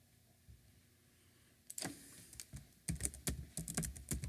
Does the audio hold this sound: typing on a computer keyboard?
yes